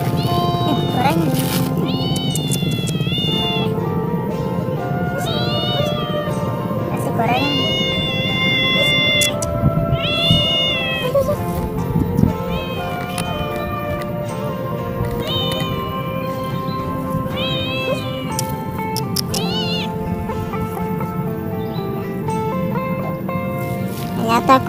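A hungry cat at a fishing pond meows repeatedly for fried tempeh, its drawn-out, rising and falling cries coming close and clear at uneven intervals while a person talks alongside.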